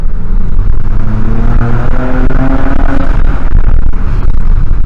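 A Vauxhall Vectra VXR engine after a downshift, heard from inside the car, gives a loud, steady drone with rising tones as the revs climb, continuous and close.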